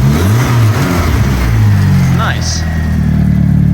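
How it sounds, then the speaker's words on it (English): A BMW E36 engine runs after a long spell of cranking, its loud, steady mid-pitched idle rising into revs while a person speaks briefly over it. "after a solid minute of cranking, this thing started running"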